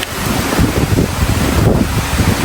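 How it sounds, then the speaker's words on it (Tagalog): Strong monsoon wind roars and buffets steadily at a resort, with a broad rushing noise like surf or gusts hitting the microphone, continuous and close. "malakas talaga ng hangin habagat"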